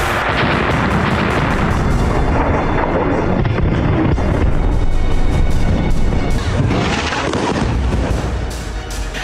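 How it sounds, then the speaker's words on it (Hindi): Israeli airstrike bombs explode in Lebanon as a loud, dense wall of rumbling booms and blasts that barely lets up for the full stretch, heavy and close, with no voices. "दिन हो या रात, हर दिन लेबनान में हजारों टन बम बरस रहे हैं।"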